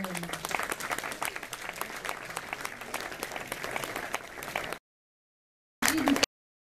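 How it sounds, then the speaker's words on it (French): Audience applause at a Paris 15th arrondissement New Year's reception, a dense steady wash of many hands clapping for several seconds, then a pause and a brief final burst. "on peut les applaudir"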